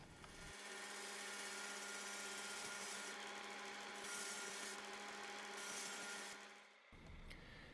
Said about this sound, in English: I'll finish them up with a surface conditioning belt, using it both to remove the scale from heat treat and then to give the bevels a smooth appearance